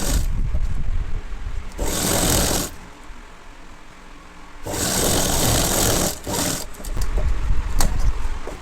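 Sewing machine stitching a uniform pinafore seam, running in three bursts of steady rapid whirring, each a second or two long, separated by quieter pauses, loud and close with no voices.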